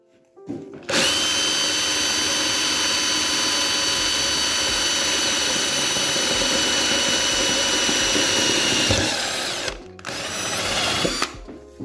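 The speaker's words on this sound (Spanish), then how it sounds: "De esa manera podemos taladrar y hacer la rosca del tornillo de una sola pasada." A power drill whines continuously at high speed for about nine seconds while drilling metal with a bit that also cuts a screw thread, briefly stops, then spins up again, loud and close.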